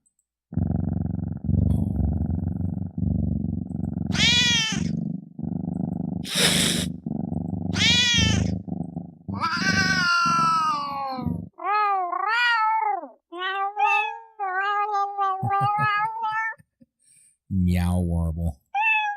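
Cat meowing and purring up close, a low rumbling purr under long warbling meows, alternating with someone talking.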